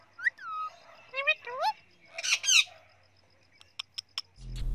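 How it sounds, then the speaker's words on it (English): Parent parrots give a string of sharp chirps and squawking calls, several rising whistled notes followed by quick clipped tweets, clear and close with short silences between, ending on a low rumble. "the mother and father parrots would use the same specific chirps when perched near their children"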